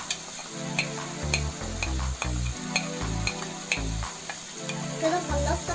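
Liver frying Alexandrian-style in a pan with peppers, steady close sizzle and hiss with repeated scraping and clattering stirs, no talk.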